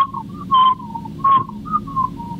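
A human voice imitates someone whistling in the bushes on a remote island at night, producing several short, clear whistled notes in a wavering rising-and-falling pattern over a low background hum.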